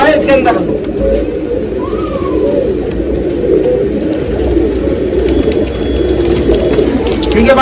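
Pedigree pigeons cooing at a sale, a continuous low burbling chorus near and far, with people talking in the background.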